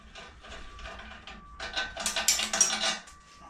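Loose metal washers drop and clatter while brackets are fitted for a motorcycle mudguard. There is a quick, close run of bright clinks and rattles over about a second and a half after a quieter stretch of handling noise.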